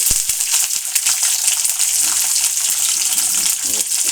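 Peanuts frying in hot oil for pulihora, a steady, close, bright sizzle running throughout with light stirring clicks.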